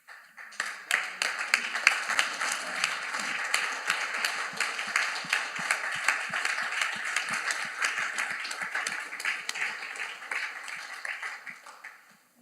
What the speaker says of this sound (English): we really need to be standing up applauding the men in this room